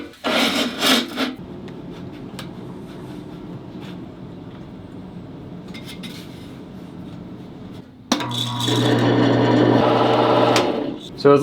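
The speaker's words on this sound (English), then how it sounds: "Now that it's dry, I'll attempt to turn it on the lathe." A wood lathe turns a rough-cut pine 2x4, its steady whirring and rubbing broken by loud, grinding bursts of tool contact near the start and end, with brief quiet stretches in between.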